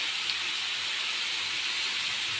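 Vegetables and olives sautéing in a pan, a steady broadband hiss of sizzling oil at moderate level with no distinct pops and no talk.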